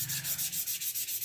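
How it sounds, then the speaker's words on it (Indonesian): Hand sanding a Tramontina knife with a small piece of 400-grit sandpaper, a steady rhythmic rasp of back-and-forth strokes, close and fairly quiet, with no talking. "sekarang saatnya kita amplas secara manual menggunakan potongan amplas grid 400"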